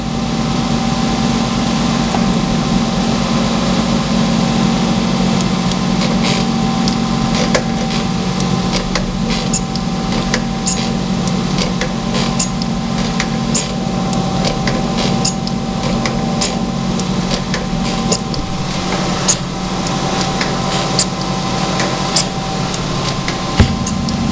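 A profile grinding machine runs with its grinding wheel spinning and hydraulics on, a loud, steady mechanical hum with a low drone, scattered with faint ticks and clicks throughout.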